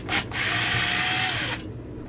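A power driver briefly whirs up to speed and spins down again while loosening the muffler bolts on a Husqvarna 346xp chainsaw during a teardown, close-up and short.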